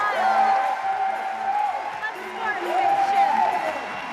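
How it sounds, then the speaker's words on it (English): Crowd at a Yank-N-Yard finals event cheering and whooping with scattered applause, a broad roar swelling and easing throughout, with a commentator's voice over it. "Big round of applause from the crowd."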